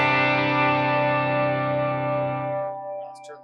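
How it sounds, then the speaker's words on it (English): A guitar chord played through a Line 6 HX Stomp with a stereo ping pong delay rings out loud and sustained, its repeats bouncing between left and right before fading, with a few faint clicks at the end. "let's try a ping pong because this is in stereo"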